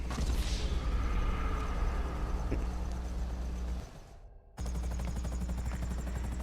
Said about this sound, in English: they're already shooting at me because I spooked the guy and he warned them that I'm coming